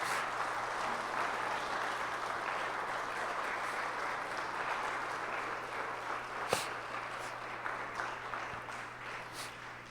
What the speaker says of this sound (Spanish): vamos a darle un fuerte aplauso a estas personas